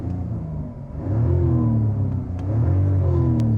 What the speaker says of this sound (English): it actually creates like an induction howl